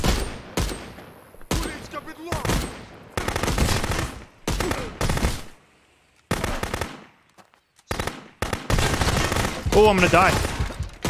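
Gunfire in the video game Contraband Police comes in loud, repeated bursts and single shots with short silent gaps between volleys. Someone talks briefly amid the shooting.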